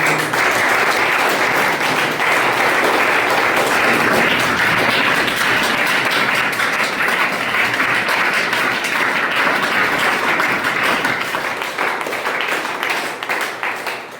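An audience at a motivational meeting breaks into loud, sustained applause, dense continuous clapping from many hands that holds steady and begins to thin out near the end.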